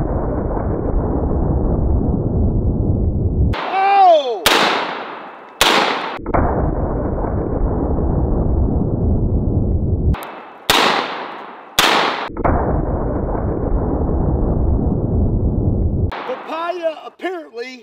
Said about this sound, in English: next, we are gonna shoot some papaya.